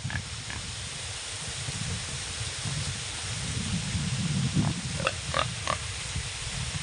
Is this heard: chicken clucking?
no